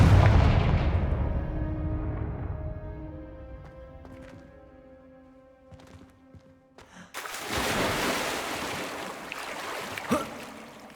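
A Confringo spell explodes in the video game Hogwarts Legacy with a loud booming blast that decays into a ringing tonal tail, followed after a pause by a rushing burst of noisy crackle.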